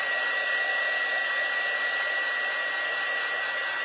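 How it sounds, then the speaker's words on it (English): A heat tool drying glue on wood shims blows with a continuous, steady, fairly loud hiss and whir that holds the same level throughout, with no talk over it. "Let me just take my heat tool to dry out some of these."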